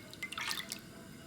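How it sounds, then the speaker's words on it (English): Water and soy sauce are poured into a pot over high heat, making a brief, faint splash and trickle of liquid that lasts under a second before fading. "we're going to pour in the water, soy sauce,"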